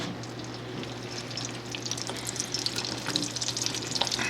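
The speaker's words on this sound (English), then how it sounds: "Now take some tongs, lay them in your grease," Taquitos frying in hot grease, a steady close sizzle with crackling pops that grow busier toward the end, no voices.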